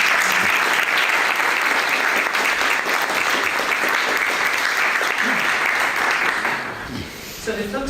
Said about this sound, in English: Can we have a round of applause for our